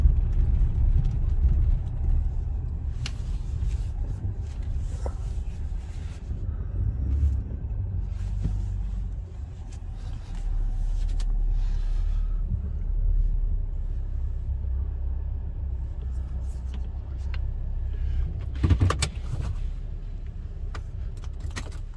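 A car rolls into an oil change shop, a steady low engine rumble and road noise throughout, with a brief jangle of keys and a few knocks near the end, no talk.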